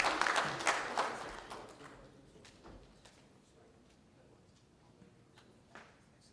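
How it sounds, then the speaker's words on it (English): An audience at a South Carolina real estate awards ceremony applauds the winners: a burst of dense clapping that fades within a second or two into quiet room noise, with a few scattered claps afterward. "Let's have a big round of applause for all those winners"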